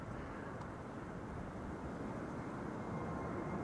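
A KLM airliner bound for Aberdeen at Amsterdam Schiphol Airport gives a steady, broad jet rumble at moderate distance, holding a constant level throughout with no voices.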